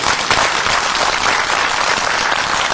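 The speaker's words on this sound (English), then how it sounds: "it deserves a round of applause" A rally crowd of conservative supporters in Powhatan, Virginia applauds steadily, a dense, even wash of many hands clapping at once, loud and sustained for the whole stretch with no voices standing out.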